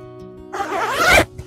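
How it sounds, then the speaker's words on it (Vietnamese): A jacket pocket zipper on a Japanese or Korean windbreaker is pulled in one quick, close, raspy stroke lasting under a second, with no talk over it. "Túi hai bên là cũng có khóa kéo hết nhá."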